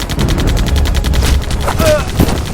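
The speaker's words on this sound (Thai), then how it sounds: "เสียงปืนกลอากาศคู่หน้า พ่นกระสุนใส่พวกศัตรู" Rapid, rhythmic bursts of twin forward-mounted aircraft machine guns firing from a diving aircraft, rattling loudly and continuously, with a brief tonal whine and a thud near the end.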